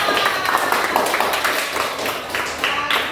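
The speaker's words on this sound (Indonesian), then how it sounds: "Kasih tepuk tangan buat kita semua." Elementary school children clap together in a classroom during a science lesson on the water cycle, a close, loud burst of mixed, overlapping claps with a few voices calling out among them.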